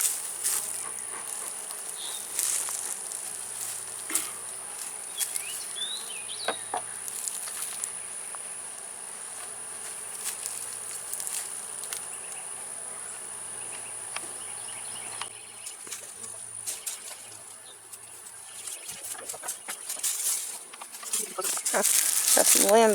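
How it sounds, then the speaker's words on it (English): Honeybees hum and buzz steadily around an open hive during a spring hive inspection, a low continuous drone with scattered bumps and handling noises, and a person talks over it. "So here we can see we have a lot of bees all the way across here"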